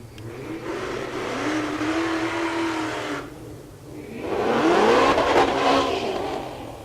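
A Terminator S197 Mustang drag car at Tulsa Raceway Park accelerates hard down the strip, its engine roaring and climbing in pitch in two loud surging pulls with a brief dip between them.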